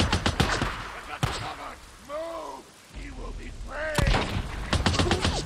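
Gunfire in the zombie survival game Days Gone: sharp shots at the start and again near the end frame a quieter middle with a voice talking over the action.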